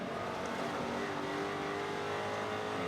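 Race car at Sebring International Raceway with the engine held on throttle, a continuous distant roar that stays steady with only slight rises and falls, heard without talk.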